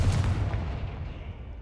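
Confringo explosive spell cast in the Hogwarts Legacy video game, a single close booming blast that hits at once and rumbles away over about a second and a half.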